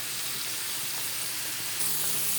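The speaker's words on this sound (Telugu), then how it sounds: "ఇలా పెద్దగా అయితే తిప్పి తొందరగా కాల్చేయచ్చు, త్వరగా ఫ్రై చేయవచ్చు" Pieces of paneer frying in a hot pan in a home kitchen, a loud continuous sizzle that stays steady and close, with a brief shift near the end as if a piece is turned.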